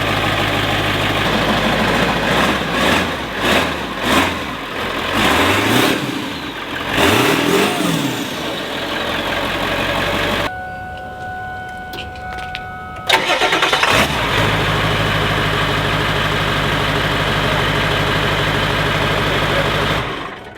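A car engine cranks and fires, then revs in several sharp rising bursts before settling to a rough idle, with a brief quieter gap partway through; loud and close.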